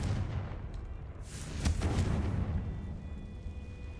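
The Confringo blasting spell in the video game Hogwarts Legacy goes off as a deep, rumbling explosion with a sharp crack at its peak, booming then trailing off into low ambient noise, with no voices.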